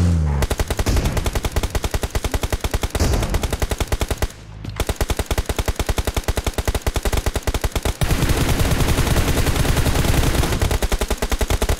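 Video game gunfire rattles in loud, nearly continuous rapid automatic bursts for about twelve seconds, broken by one brief pause midway, with no talk over it.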